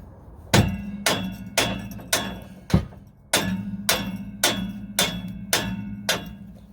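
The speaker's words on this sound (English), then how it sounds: "I'm just going to try and use the chisel" A hammer drives a chisel to split the ears of an exhaust clamp on a Peugeot 107, Citroen C1 or Toyota Aygo, ten loud, close, ringing metallic blows at a steady rhythm with no talk.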